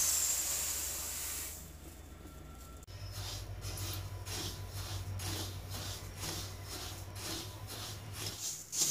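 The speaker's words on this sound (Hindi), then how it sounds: "तिल में से हमारी चटकने की आवाज़ आ रही है" Sesame seeds roast in ghee in a kadhai over a gas flame, giving a steady soft hiss with faint repeated crackles and a low hum beneath, no talking.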